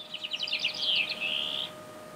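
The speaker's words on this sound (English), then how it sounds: "this is the full song of the Montanan bird" Full song of a bird recorded in Montana: a single short phrase of rapid high trills and chirps that runs together into a sustained whistled note before stopping, heard clearly against faint background hiss.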